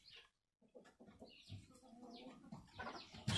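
A broody hen clucking softly and repeatedly in a quiet coop, low rhythmic clucks close to the listener with a few sharper fowl calls near the end.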